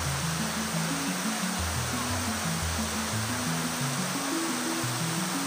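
Kandungos Falls pouring with a loud, dense, continuous roar of rushing water close by, steady and unbroken throughout, with no voices audible.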